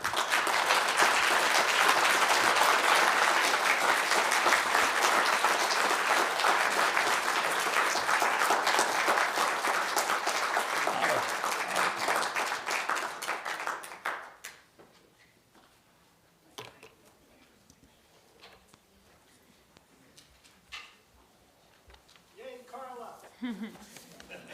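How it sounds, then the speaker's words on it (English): Sustained audience applause after a keynote talk, dense and loud for about fourteen seconds, then dropping off abruptly, leaving a quiet room with a voice speaking briefly near the end. "Carla gets the applause."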